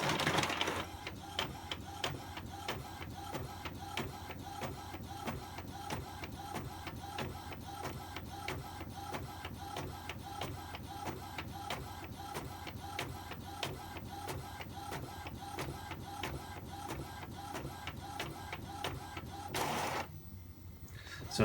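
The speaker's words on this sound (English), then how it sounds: "click print again, and then that should then print on the back" A printer feeds and prints the back of a double-sided sheet, a steady quick run of rhythmic mechanical clicks and whirs lasting about twenty seconds before a final paper-ejecting rustle.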